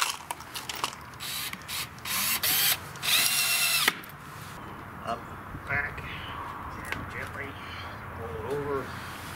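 A power drill drives screws to fix a bottom board onto a sand casting flask, with several loud whirring bursts, ratcheting clicks and handling noise, then a person talks between quieter knocks.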